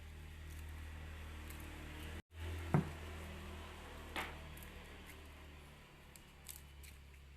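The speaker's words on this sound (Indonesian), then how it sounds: "Kita gunting kecil-kecil gitu." Scissors cutting betel leaves into small pieces for a homemade hand sanitizer: a few faint, sparse snips against a quiet, steady room hum.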